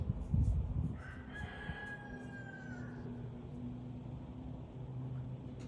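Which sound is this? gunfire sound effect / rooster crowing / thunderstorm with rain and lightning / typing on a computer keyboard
rooster crowing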